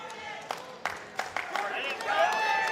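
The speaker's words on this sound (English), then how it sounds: "You can hear the crowd here" A wrestling crowd at an NWA 75 show cheers and claps, with scattered sharp impacts and a rising roar and whistles toward the end, all under a commentator's talk.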